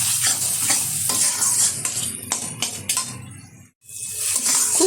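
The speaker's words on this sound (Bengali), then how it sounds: "এখন খুব ভালোভাবে আবারও কষিয়ে নেব।" Spices and masala for chicken curry sautéed in a hot pan, a steady loud sizzle with repeated scraping and stirring strokes of a spatula, briefly dipping before the frying resumes.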